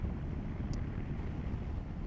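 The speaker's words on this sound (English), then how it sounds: "So it's a little bit windy now." Wind buffets a microphone on a moving Royal Enfield Himalayan motorcycle with a steady, heavy low rumble, constant throughout.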